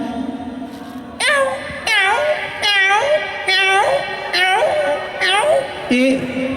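A person mimics a scrawny, pitiful cat with a run of about seven whiny, rising-and-falling meows. Each is loud and close, paced roughly every half second to second, after a quieter opening.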